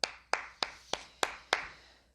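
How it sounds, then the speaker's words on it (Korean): Six sharp, evenly spaced claps ring out in a church setting, each crisp hit trailing off into room reverberation, fairly close and quiet with no talking. "박수가 나옵니다. 박수가."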